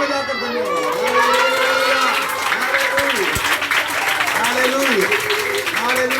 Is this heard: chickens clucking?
no